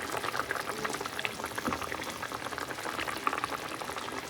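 A pot of potato curry with plenty of water boils as fried fritters go in, a close, continuous bubbling and popping with no talk.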